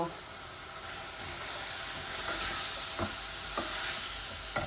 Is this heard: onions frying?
yes